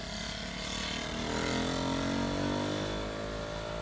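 A Honda Monkey Z100 motorcycle engine runs steadily and loudly for the whole stretch, its drone climbing slightly in pitch, heard close during a special demonstration run at the Honda Collection Hall.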